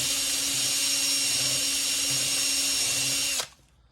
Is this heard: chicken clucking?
no